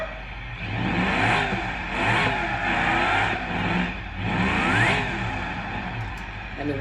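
A car drifting in the BeamNG driving game, its engine revving loudly in repeated surges with a brief tyre skid, steady and close for several seconds without talk.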